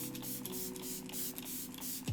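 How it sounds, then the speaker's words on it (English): A KVD Lock-It makeup setting mist is sprayed in a rapid series of short, hissing pumps, about a dozen close bursts in quick rhythm over a faint steady hum. "this KVD Lock-It Makeup Setting Mist Spray, and I will try it out here for you guys"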